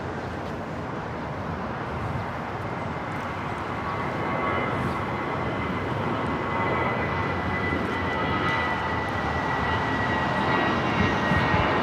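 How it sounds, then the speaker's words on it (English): An American Airlines A319 on its takeoff roll at LAX, bound for San Antonio, sends up a broad jet roar that swells steadily louder across the whole stretch, heard alone. "This is American Airlines 2299 taking off to San Antonio on the A319"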